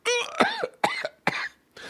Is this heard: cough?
yes